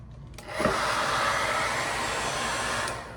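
A hair dryer starts up with a click and then blows steadily, a loud close-up whooshing roar that holds evenly for a few seconds, alone with no voices.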